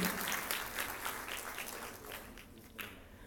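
An audience at an international conference on Olympism at a college of education applauds after a presentation. The clapping is dense and sustained, loud at first and tapering slightly toward the end.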